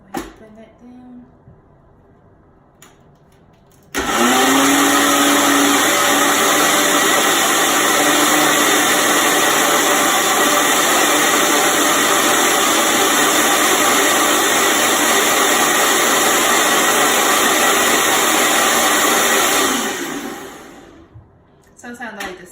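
A blender whirs through kale, apple and banana for a green smoothie, starting abruptly after quiet moments and holding a loud, steady motor roar for about sixteen seconds before winding down.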